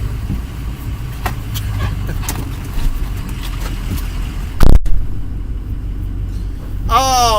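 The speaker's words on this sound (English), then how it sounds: "I love that diesel engine sound." A diesel engine idles with a steady low rumble throughout, joined by a brief loud burst midway and a sweeping tonal whine near the end.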